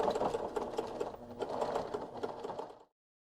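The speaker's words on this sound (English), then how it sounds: "help it feed through my machine" A sewing machine stitches through a thick zipper pouch in one fast, rhythmic burst of needle strokes lasting under three seconds, then stops abruptly, with no voices.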